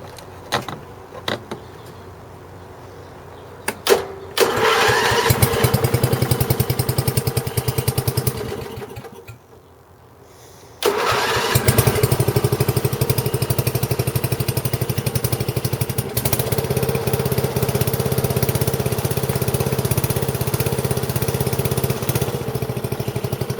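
A motorcycle engine with a newly filled battery cranks over in the cold and catches, settling into a loud, steady buzzing idle close by, cutting out briefly midway before restarting and running on.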